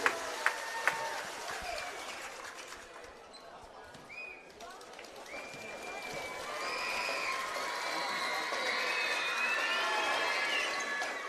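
Crowd noise at a youth league basketball game between Darebin and Warrandyte builds from scattered shouts into a sustained roar with whistles and sneaker squeaks, while a commentator talks over it.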